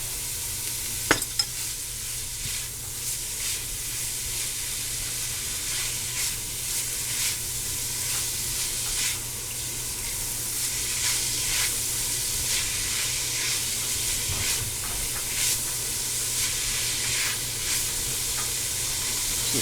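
Garlic and spices fry in a pan with ground pork for Cuban sloppy joes, giving a steady close sizzle and hiss with occasional stirring scrapes and no voices.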